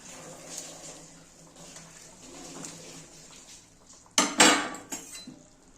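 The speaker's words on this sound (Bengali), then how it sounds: "এবার আমি বড়াগুলো সব দিয়ে দেব।" Fish roe fritters are dropped into a simmering potato and pointed gourd curry in a pan, giving a loud burst of clattering and clinking for about a second near the end after a low bubbling hum.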